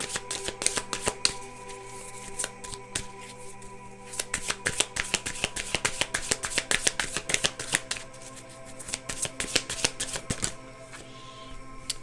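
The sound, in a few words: shuffling conversation cards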